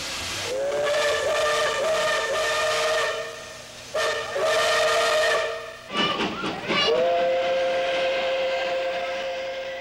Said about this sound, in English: Steam trains are still in use, from here to the Pacific coast.